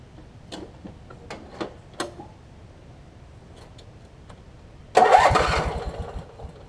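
Craftsman lawn mower with a Briggs opposed-twin engine being cranked: several short starter bursts and ticks, then the engine catches near the end and roars loudly for a moment.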